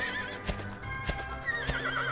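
Hooves thud in a slow, even rhythm, three or four clear steps, while a horse's high wavering whinny rises and falls over them, in the video game Dragon Quest VIII on PS2.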